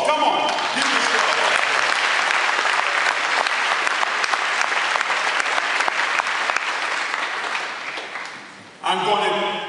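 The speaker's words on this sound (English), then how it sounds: "I want you to just give yourself one resounding bit of applause." A conference audience at the ATA 2012 event claps together in a dense, loud burst of applause that lasts several seconds, then fades before a voice cuts in at the end.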